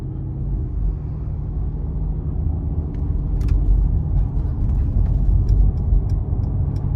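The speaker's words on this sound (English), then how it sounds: "driving this vehicle in comfort, it is a pretty plush ride" Cabin of a 2023 Mercedes-Benz G550 4Matic SUV cruising in comfort mode: a steady, muffled low road-and-engine rumble with a slight swell midway and faint ticks, no voices.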